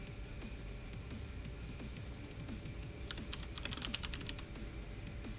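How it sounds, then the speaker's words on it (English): Quiet, steady typing on a computer keyboard, with a quicker burst of keystrokes near the end. "Whoops, I am typing..."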